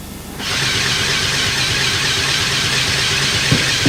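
A single electric motor drives a fischertechnik model saw machine, powering both the feed and the saw blades through stepped gearing; after a brief quiet start it settles into a steady, close whirring hum with a faint rhythmic clatter underneath.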